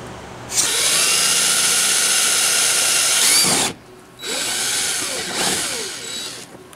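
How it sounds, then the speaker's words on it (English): A power drill whines loudly and steadily, stops briefly, then runs again with shifting pitch as it bores a hole in a subwoofer build, close by. "so now we're gonna drill a hole"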